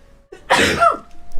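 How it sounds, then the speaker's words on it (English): A single close sneeze bursts out sharply and alone, trailing off into a brief breathy tail. "Wasn't my sneeze"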